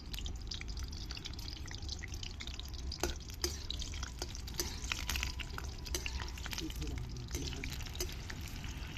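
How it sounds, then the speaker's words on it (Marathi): Slit green chilies fry in hot oil, a constant crackling sizzle close by, dotted with sharper spits and pops, alone without talking. "बघा आता या मिरच्या अशा आपण छान तळून घेऊया"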